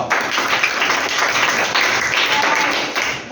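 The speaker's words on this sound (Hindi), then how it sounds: "गुड, ताली बजाओ।" Schoolchildren in a classroom clap together during a Class 7 decimals lesson, giving a loud, dense patter of many small hands that keeps up steadily, with faint voices mixed underneath.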